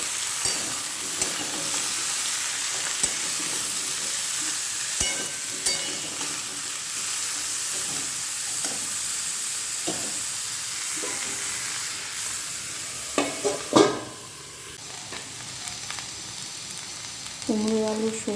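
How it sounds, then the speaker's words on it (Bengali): Onions, pumpkin and potatoes sizzle steadily in a hot pan, with occasional stirring scrapes and clinks over the constant hiss. "এটা ভাজবো পেঁয়াজ দিয়ে কুমড়ো দিয়ে দিয়েছি আলু দিয়ে"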